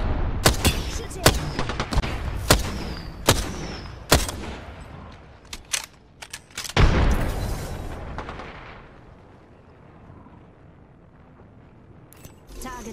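Gunfire in the video game Apex Legends: sharp, loud shots crack out in a quick irregular series, with a heavier blast midway before the firing thins out into quieter ambience and a few late pops.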